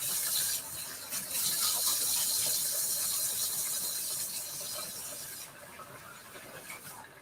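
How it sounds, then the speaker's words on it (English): Water running steadily from a kitchen tap as hands are washed under it, a continuous close hiss and splash with no talking. "Just going to wash my hands."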